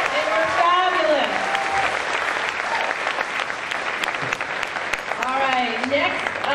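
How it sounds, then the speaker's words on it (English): Concert audience applauding an orchestra at a middle school winter concert, steady sustained clapping throughout with voices and cheers rising over it at the start and end. "let's give one more round of applause for our orchestra so they can hear you out in the hallway"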